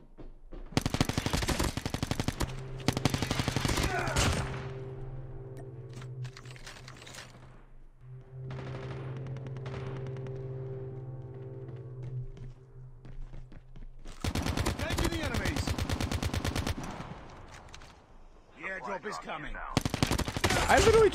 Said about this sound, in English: I literally just shot through that wall